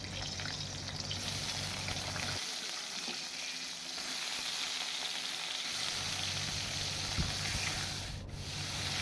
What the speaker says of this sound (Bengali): এবার আমি কাঁচকলাটাও ভালো করে ভেজে নেব